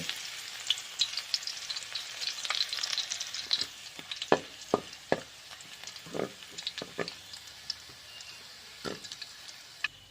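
Chopped garlic frying in oil in a wok for a Thai stir-fried luffa and egg dish, a steady close hiss and sizzle with scattered sharp ticks and stirring scrapes, while someone talks over it.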